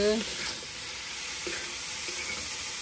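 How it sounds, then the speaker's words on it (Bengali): Tomatoes sizzle loudly in a hot pan of spices and salt while being stirred, a steady close frying hiss with a few brief scraping touches and a faint voice at the very start. "এই যে এরপরে গেল টমেটো, টমেটো দিয়ে নাড়া চলছে।"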